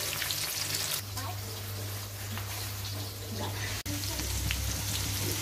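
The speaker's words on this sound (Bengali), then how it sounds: "তো এখন মাছটা ভাজবো। মাছগুলো দুই ধাপে ভেজে নিব" Rohu fish fries in hot oil, a dense, steady close sizzle with a low hum underneath and a brief drop partway through.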